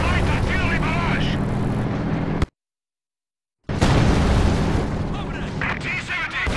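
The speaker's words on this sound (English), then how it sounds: "Fire light artillery barrage!" Light artillery barrage in the Company of Heroes 2 video game, Soviet campaign battle at Lublin. Loud booming explosions and rumbling impacts are broken by a brief total silence, then a blast resumes the barrage, with battlefield voices mixed in.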